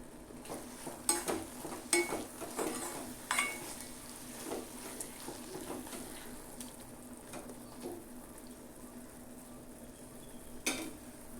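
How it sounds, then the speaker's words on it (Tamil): Ingredients sautéing in a little oil for an egg gravy, heard as soft frying under sharp clinks and scrapes of a spoon against the pan, with a louder knock near the end. "ஒரு மூணு நிமிஷம் அந்த மாதிரி வதக்கி விட்டால் போதும் கொஞ்சம் எண்ணெயிலே வதங்கிருச்சு"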